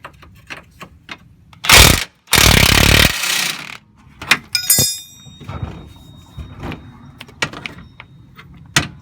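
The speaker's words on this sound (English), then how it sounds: "Dude, you can feel the heat from the grinding" An angle grinder cuts metal during a lower control arm and sway bar link replacement on a G35, in two harsh bursts, one short and one longer, followed by clanks, scattered knocks and a brief metallic ring.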